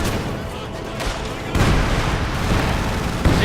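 Field guns fire during a Company of Heroes 2 battle on ice, a dense and loud barrage of booms and blasts with heavier thumps around the middle and near the end, beneath a continuous wash of battle noise.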